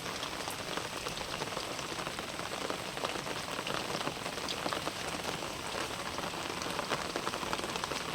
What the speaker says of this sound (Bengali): বৃষ্টি ভেজা সুপ্রভাত বন্ধুরা